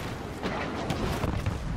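Blaster gunfire and explosions in Star Wars Battlefront, a dense, loud flurry of overlapping shots and booms.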